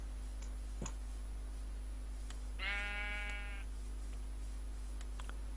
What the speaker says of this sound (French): J'ai toujours un mouton qui me fait B sur la vidéo.